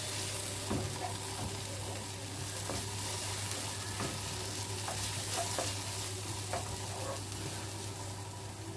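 Chopped onions sizzle steadily in a pan for a Kerala-style salmon curry, with a constant hiss of frying and occasional light clicks of a spoon stirring through.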